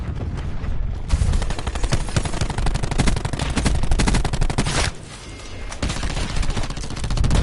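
Black Ops 4 gameplay with sustained rapid-fire gunfire, loud and close, in long bursts with a brief lull near the end before firing resumes.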